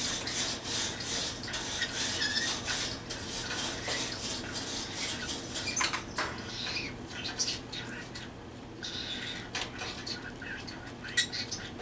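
Hot water and a scrubbing brush rub steadily against a pet bird's cage, a continuous close rasping with brief pauses and a faint bird call now and then, no voices.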